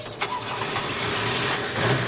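A film car starting with its key: a steady mid-pitched engine running at moderate loudness with a faint rhythmic ticking over it, a slight rise near the end, and no voices.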